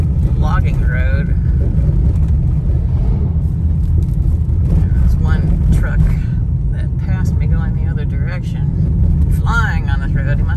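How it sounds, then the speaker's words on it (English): A truck comes along a gravel logging road known as Golden Road in Maine, its heavy rumble swelling and passing close, with wind buffeting and someone talking over it throughout. "And another truck is coming at me."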